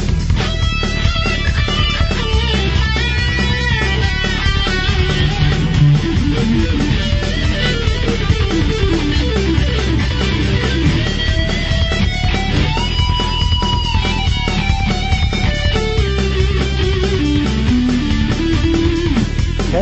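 Electric guitar runs through a Korg Pandora PX4D multi-effects unit with delay added, playing a continuous loud jam of sustained notes and echoing phrases, alone with no talking.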